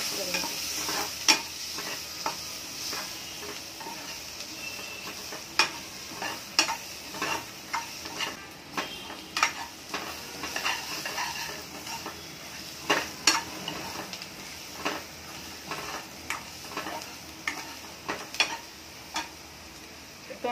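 Ridge gourd stirred with coriander and cumin powder in a frying pan, a steady sizzle under repeated sharp spoon taps and scrapes against the pan at a brisk, irregular pace, close and clear.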